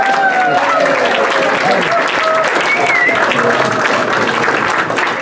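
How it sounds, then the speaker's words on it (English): An audience at a keynote of an annual meeting gives a big, sustained round of applause that stays dense and loud throughout, with some voices mixed in. "Let's have an enormous round of applause."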